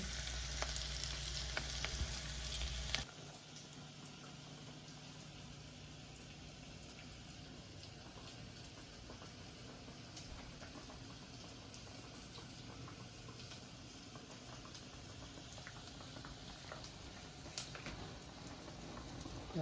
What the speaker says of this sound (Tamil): கொதித்து கொண்டு வருகிறது.